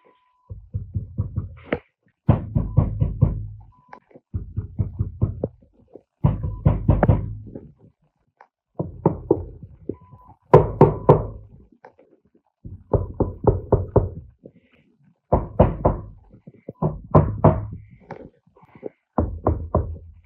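Knocking on Nissan Patrol door panels, one deadened and one bare, in repeated bursts of rapid dull taps separated by short pauses, close and clear.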